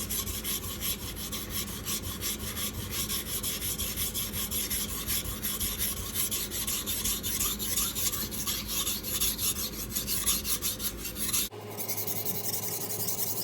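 Kitchen knife drawn across a water stone in steady, continuous rasping strokes, close and fairly loud, with a sudden break near the end into a quieter, duller scrape.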